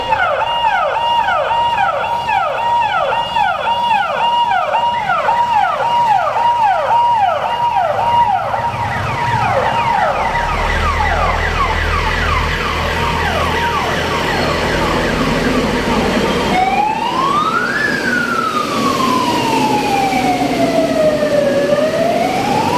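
Fire engine sirens wail continuously at a fire brigade rally in Chetganj, Varanasi, marking Fire Service Day, several overlapping fast yelping sirens giving way to a slow rising-and-falling wail, loud and close over vehicle rumble.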